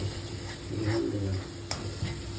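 Spiced masala for a homemade cashew curry sizzles and fries in a pan as a little water goes in, a steady close hiss with soft stirring scrapes, no talk.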